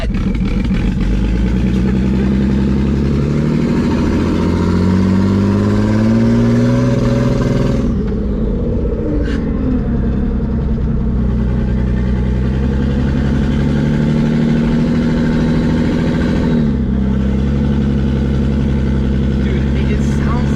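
A turbocharged BMW E36 engine idles with a deep, rough drone, then blips through short revs and settles back, loud and close, with a few bursts of talk between.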